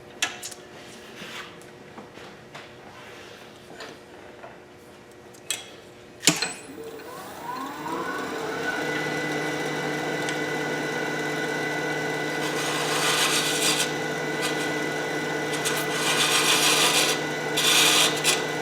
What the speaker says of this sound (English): Try my little scraper here.